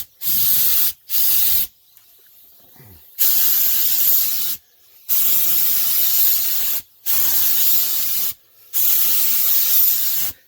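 Aerosol spray paint hisses in five steady bursts of a second or two each, with short silent gaps, as a light coat goes onto the rocker panels of a Ford F-150; close and fairly loud.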